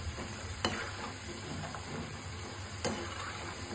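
Half-boiled potatoes (aloo) frying slowly on a low flame, a soft continuous sizzle with two sharp clicks of utensils against the pan, no voices.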